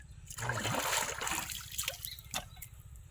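Water trickles and splashes as it drains away, a steady dribbling pour that thins out, ending with a few faint drips.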